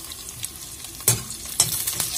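Egg curry masala frying in a pan while being stirred: a soft, steady sizzle close by, broken by two sharper scraping strokes of the spoon against the pan.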